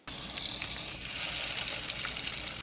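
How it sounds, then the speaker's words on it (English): Jimmy Dean sausage sizzles in a frying pan, a close, steady crackling hiss that runs continuously with small pops and then cuts off abruptly. "get this Jimmy Dean sausage in our frying pan"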